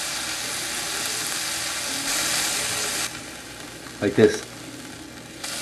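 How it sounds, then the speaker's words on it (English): Miso-glazed mahi mahi fillets sear in a hot pan, giving a steady close sizzle throughout that softens midway, with a brief burst of handling noise and a short spoken remark near the end. "Let's just let them sear a little bit. About 45 seconds on each side."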